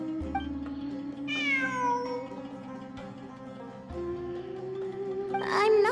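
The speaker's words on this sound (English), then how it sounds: "I'm not hearing things. It really is a cat." A cat meows repeatedly in the Genshin Impact video game during the Sumeru event, several drawn-out rising meows heard clearly over a steady game music bed.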